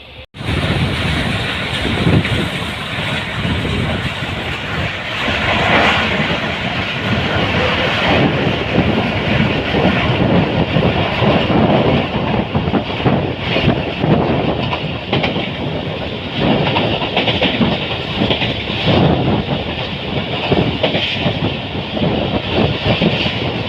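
The Millat Express passenger train rolls along the rails from Khanpur Junction, a loud continuous rumble with rhythmic wheel clatter and wind noise heard from onboard, steady throughout.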